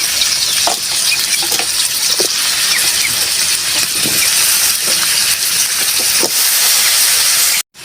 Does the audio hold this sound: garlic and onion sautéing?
yes